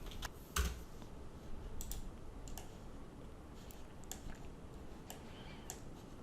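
Light typing on a computer keyboard while modelling furniture panels in design software, with scattered soft clicks and taps, one firmer keystroke near the start, steady and close over a faint background hiss.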